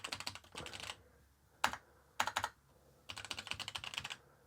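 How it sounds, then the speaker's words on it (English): Typing on an A1200NET mechanical Amiga 1200 replacement keyboard: close, crisp key clacks in quick clusters, a few isolated strokes, then a longer rapid burst, with no voices. "let's see if we get anything from the keyboard."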